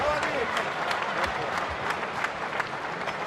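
A boxing crowd applauds at the end of a round, dense clapping with sharp individual claps, heard under a commentator's voice.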